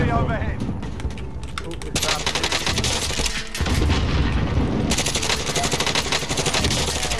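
Gunfire in the Call of Duty Modern Warfare Warzone video game: loud, rapid automatic bursts crackling almost continuously, with brief pauses and heavy booms, while voices talk over the shooting.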